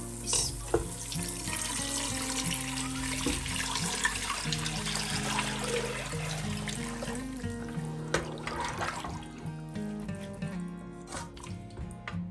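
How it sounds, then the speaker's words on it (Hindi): A thin yogurt, gram flour and water batter, about two litres of it, is poured into a curry masala for Punjabi kadhi. It makes a continuous liquid splashing and trickling for several seconds, fairly faint, with no talk. "ये दही, बेसन और पानी ऐड करके हमने मिक्स कर लिया था, ये अब हम ऐड करेंगे।"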